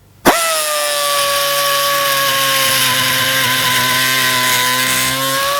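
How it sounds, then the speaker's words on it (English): A Parkside air multi tool cuts into a metal screw, starting abruptly with a loud, steady high-pitched buzzing whine that holds close and constant for about five seconds. "Okay, let's try cutting the screw."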